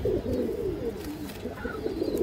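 Small-headed, black-tailed fancy pigeons coo in low, steady, rolling murmurs close by, with soft overlapping calls and no talk.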